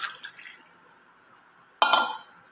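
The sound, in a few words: pouring drink between tumblers to cool it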